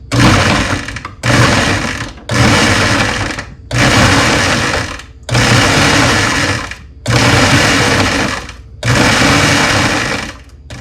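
A food processor whirs loudly in seven short bursts, each pulse running about a second before cutting off, close and harsh with chopping rattle.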